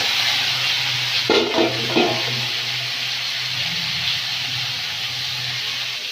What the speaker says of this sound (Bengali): এবারে যে পেঁপে আর আলুটা দিই,